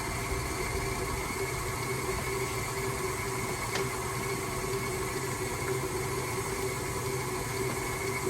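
A stand mixer beats pumpkin whoopie pie batter on medium speed, giving off a steady, even motor hum that holds unbroken for the whole stretch with no talking.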